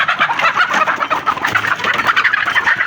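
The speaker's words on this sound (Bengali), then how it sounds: "এই যে দেখেন মুরগি ডিম পাড়তেছে।" Hens clucking continuously and loudly in a poultry house where drums are set against the wall for laying, with busy overlapping calls close by and no talk.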